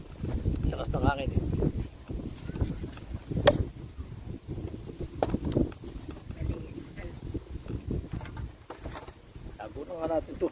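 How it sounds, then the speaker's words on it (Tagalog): Strong wind buffets the microphone outdoors in low rumbling gusts, rising and falling in loud bursts while people talk nearby. "Lakas ng hangin"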